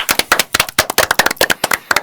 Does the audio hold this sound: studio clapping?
yes